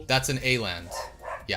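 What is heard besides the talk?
dog barking outside the window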